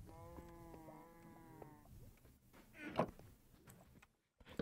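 A video game sheep gives one clear, wavering bleat at close range, followed by soft clicks and faint movement sounds before a short silence.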